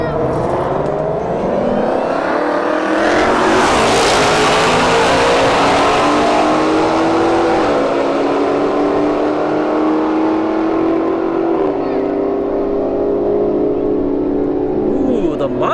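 Dodge Hellcat and Ford Mustang S550 drag racing side by side at a motorsports park: two loud engines launch together, climbing in pitch through repeated gear shifts with a harsh burst near the start.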